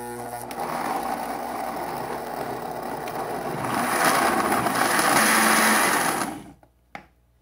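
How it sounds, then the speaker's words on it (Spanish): A blender whirs steadily up close, pureeing softened salsa ingredients with garlic and added water. The pitch rises and gets louder midway, then the motor cuts off, followed by a short clack. "vamos a licuar"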